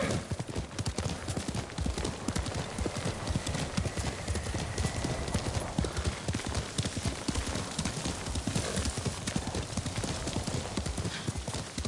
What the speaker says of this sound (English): You're a good horse, Nobu.